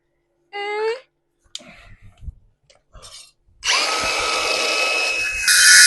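Power cutting tool slicing through a metal piece for a weld repair on a chassis-swapped BMW E9 build, a loud sustained whine starting midway after brief talk and clatter, rising sharper at the end.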